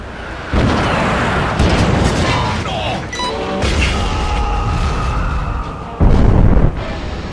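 Turret firing in 007 Everything or Nothing, heavy booming blasts that repeat over a dense, loud roar, with a sharper burst near the end.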